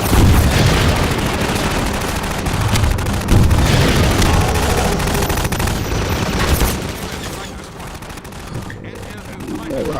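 Rockets firing and exploding in a video game, a loud, continuous barrage of bangs and rumbling booms that thins out toward the end.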